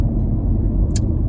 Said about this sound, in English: So now we have a traffic jam, of course. We're in Florida, and it's I-75,